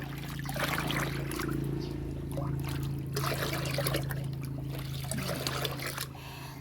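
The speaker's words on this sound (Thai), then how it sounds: "เสร็จแล้วเราก็ ตีค่ะคนให้ละลายนะคะ" Liquid fertilizer being stirred by hand into about 5 litres of water in a container, a steady close trickling and sloshing that runs continuously with a low background hum.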